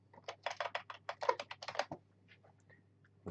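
Keys tapped on a computer keyboard while entering text into an Excel 2010 chart, a quick run of a dozen or so close crisp clicks followed by a couple of faint lighter taps, with no talking.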